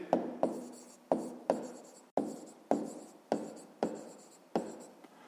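Pen writing digits by hand on paper, a steady series of about ten sharp scratchy strokes at a regular rhythm, close and alone with no talking.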